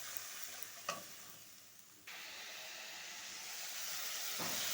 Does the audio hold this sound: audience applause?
no